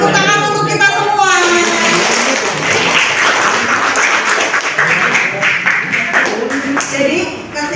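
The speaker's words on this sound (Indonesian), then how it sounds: "Tepuk tangan untuk kita semua." Classroom applause after a lesson, a burst of mixed clapping from students lasting several seconds, with a teacher's voice heard at the start.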